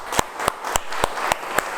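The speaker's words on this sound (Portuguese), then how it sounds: "Nós vamos levantar um aplauso para ele" A church audience gives a short round of applause, with a few distinct, evenly spaced claps ringing out over a hushed room.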